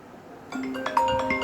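An iPhone plays its incoming-call ringtone, a short melodic sequence of bright chiming tones that starts after a brief pause and rings clearly at moderate volume.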